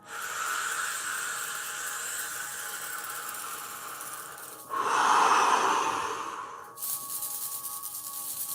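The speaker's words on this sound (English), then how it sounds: "Take a deep breath in, collective." A long, slow inhalation fills the quiet, followed by a fuller breath surging in around the middle and easing off, with soft airy hiss throughout and no talking.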